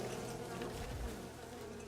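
Bees buzz steadily in the video game Len's Island, a continuous dense hum with no talking, fairly close and even in level for the whole moment.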